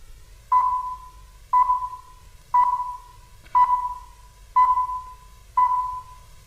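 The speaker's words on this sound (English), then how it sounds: "But first and foremost on both networks, the Greenwich Time Signal." The Greenwich Time Signal: six short, identical high pips sound one second apart, each clean and steady, over a faint low background hiss.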